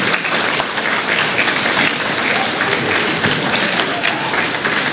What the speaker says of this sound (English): will you please join me and give them one round of applause